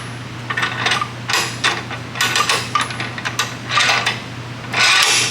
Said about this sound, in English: Then I'm going to go ahead and slide these clamps onto this rail here.